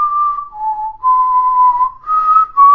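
A person whistles the Master Chief theme alone, clear and close: a few long, sustained pure notes that step between pitches with short breaks between phrases.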